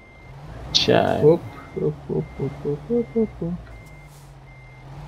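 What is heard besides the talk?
truck reversing with reversing beeps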